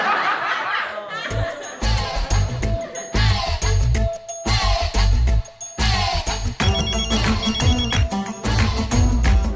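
A mobile phone rings with a melodic ringtone for an incoming call from a travel agent, the tune repeating in bursts over several seconds, loud and close, with laughter and background sounds around it.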